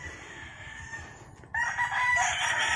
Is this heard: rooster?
yes